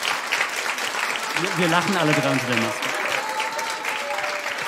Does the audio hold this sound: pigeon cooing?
no